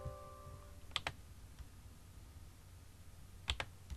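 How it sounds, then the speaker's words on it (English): A computer mouse on a Windows 10 PC gives two quick double clicks a few seconds apart, crisp and quiet over a low room hiss. "I'm going to double click and run it"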